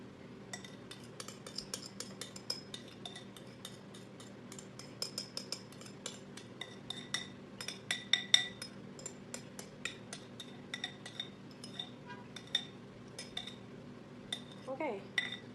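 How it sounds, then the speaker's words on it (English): A spoon scrapes cupcake batter into a bowl, giving a steady run of light clinks and taps against the bowl with a soft background hum and no talking. "I'm gonna scrape up everything, just add it in. I'm gonna take a spoon for this."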